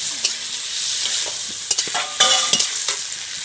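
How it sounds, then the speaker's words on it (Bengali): Paneer pieces fry in a pan with a constant bright sizzle, broken by sharp clacks and scrapes as the pieces are turned over, no speech. "এখন উল্টে পাল্টে পনিরগুলো ভালোভাবে ভেজে নেব।"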